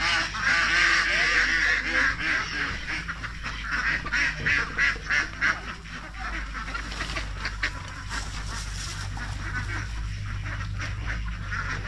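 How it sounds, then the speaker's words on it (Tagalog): A flock of itik ducks quacks continuously while being herded, a dense chorus of nasal calls near and loud, with a person speaking briefly underneath. "Yan po yung ating mga itik."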